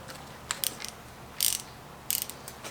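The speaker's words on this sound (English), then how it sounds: "inner studs are going to be torqued down to 60 foot-pounds" A ratcheting torque wrench clicks in three short, sharp bursts as it tightens inner engine head studs to 60 foot-pounds on a stroker motor build, close but fairly quiet against a faint background hum.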